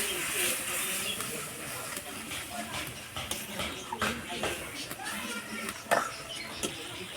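Water poured into spice paste frying in oil for Bengali tangra fish curry, giving a steady hissing sizzle with brief sharp crackles throughout, and a voice speaking over it at times.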